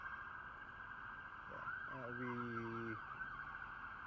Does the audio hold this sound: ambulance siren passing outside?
yes